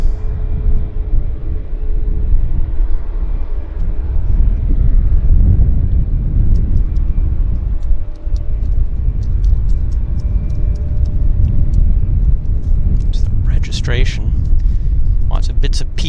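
A Flair Airlines airliner taxiing at Vancouver airport gives a steady low engine rumble close by, with chirping birds and someone talking over it near the end.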